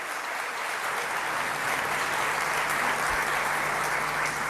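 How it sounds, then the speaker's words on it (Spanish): Sustained applause from an auditorium audience welcoming Padre Fidel, dense and steady throughout, with no voices over it. "un gran aplauso"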